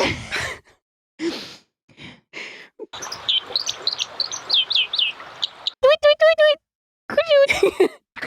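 A person imitates a high, stereotypical bird song: a long run of rapid vocal tweets and clicks, followed by several bursts of clear warbling chirps, with breathy sounds and gaps between the bursts.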